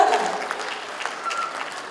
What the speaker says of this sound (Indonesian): Beri tepuk tangan yang meriah sekali lagi Fashion Show Tradisional